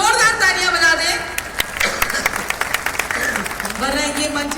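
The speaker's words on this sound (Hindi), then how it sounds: "एक बार जोरदार तालियां बजा दे" Audience clapping at an outdoor Hindi kavi sammelan poetry gathering at a festival, scattered claps picking up beneath someone speaking into a microphone, with the crowd noise sitting behind his voice.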